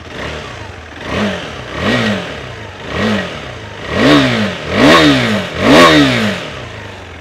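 Exhaust of a 2023 KTM 390 Adventure SW motorcycle, BS6 phase 2 compliant, blipped six times in rhythmic revs, each rising and falling, growing louder toward the end, heard close and alone.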